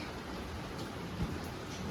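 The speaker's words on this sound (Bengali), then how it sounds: "এই দেখো বৃষ্টি হচ্ছে কলকাতায়" Steady rain falls in Kolkata as a dense, even hiss, with a faint low thump partway through.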